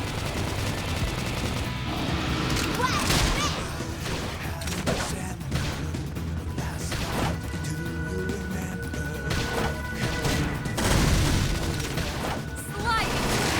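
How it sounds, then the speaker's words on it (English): Xenoblade Chronicles X combat with a flame grenade explosion and gunfire, dense rapid bursts of shots and booms layered over continuous game music and effects, loud and sustained. "Almost a flame grenade."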